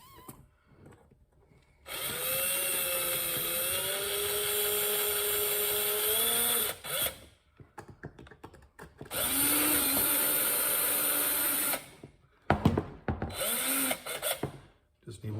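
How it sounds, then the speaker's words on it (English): Power drill boring holes to mount gauges on a Ryobi 48V lithium zero-turn mower, two long loud whining bursts with a pitch wobble, then short bursts, with quiet pauses between. "and we got to drill some holes."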